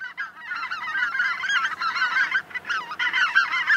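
Greater white-fronted geese call in a loud, continuous chorus of overlapping high, laughing honks, a dense flock clamor with no pauses.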